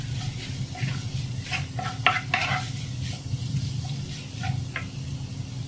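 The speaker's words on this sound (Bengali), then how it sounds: "ধনিয়া গুঁড়ি দিলাম, গরম মশলা গুঁড়ি, ভাজা জিরার গুঁড়ি, সকল উপাদান একসাথে মিশিয়ে নিতে হবে।" Chicken bun filling is being mixed with salt, coriander powder, garam masala and roasted cumin powder. A spoon stirs and scrapes steadily and close by, with clinks and a faint sizzle in the background.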